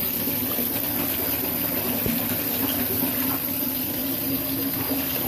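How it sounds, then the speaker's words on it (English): Bath water gushing steadily from a tap into a tub, a constant rushing hiss with a low hum underneath, close and unbroken. "I'm about to run the water."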